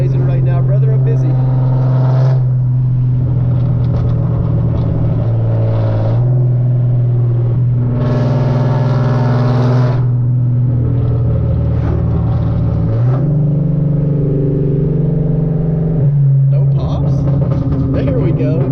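A 2013 Hyundai Genesis Coupe 3.8 with full bolt-ons accelerates hard from inside the cabin, its engine note climbing through several gear pulls with a clear shift partway, loud and continuous while someone talks over it.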